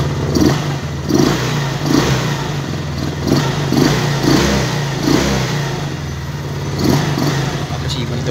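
A Yamaha Mio Sporty motorcycle engine with a new throttle cable idles close by and is blipped repeatedly in short, regular revs, with a voice talking over it.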